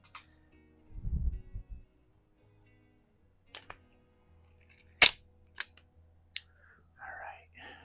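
An Airforce International Indian target air pistol fires a few sharp, isolated cracks with long quiet gaps between, plus a low murmur of voice and small clicks.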